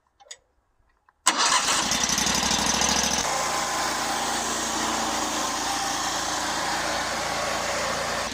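A homemade truck powered by a Predator 670 engine cranks and fires after a short quiet pause, then runs at a loud, steady, buzzing idle that shifts to a lower, rougher drone as it pulls away, close by with no talking.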